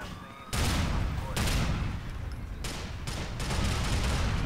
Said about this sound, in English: when I shoot, it shoots basically a rocket